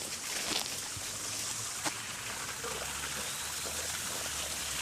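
Water from a koi pond filter tumbles down small waterfalls in a steady, continuous trickle and splash, with a low hum underneath and no voices.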